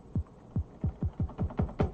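A synthesized kick drum in one-shot mode with added attack thumps eight times in a steady, slightly quickening rhythm, each hit a deep, low-end boom with a short click on top, fairly quiet and with no voices.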